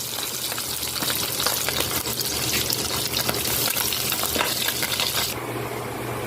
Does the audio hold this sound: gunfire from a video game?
no